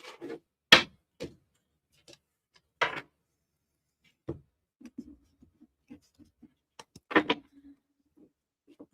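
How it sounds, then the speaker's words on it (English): Quiet tarot card handling: a few sharp riffling bursts and taps, then soft light clicks of cards being squared and shuffled, close by with no talking. "Just shuffle this deck."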